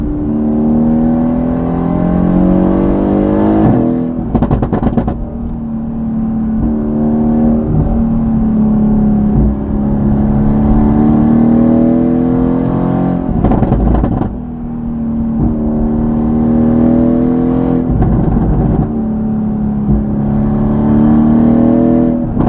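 A Mercedes-AMG GT-R fitted with a full FI exhaust system revs repeatedly, its loud engine note rising and falling in several long throttle sweeps, with sharp crackles between revs and no talking.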